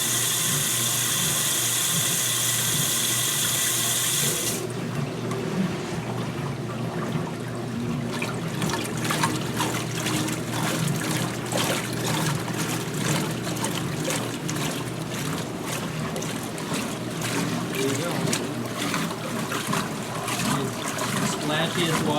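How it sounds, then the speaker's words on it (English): A plastic-tub washing machine churns and splashes water, a continuous sloshing, gurgling wash that stays loud and steady throughout, with a brighter hiss in the first few seconds. "Splashiest washer ever built, other than the Kelvinators and the Maytag."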